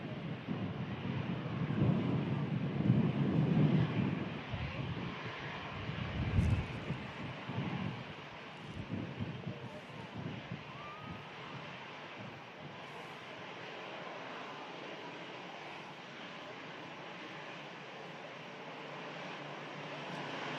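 An airliner taxis at Manchester Airport in stormy weather, a low engine rumble swelling early then fading under steady wind buffeting the microphone, heard from some distance.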